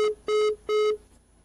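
Telephone line tones during a radio phone-in call: three short, clear electronic beeps in a regular rhythm, each a steady pitched tone with harmonics, followed by silence.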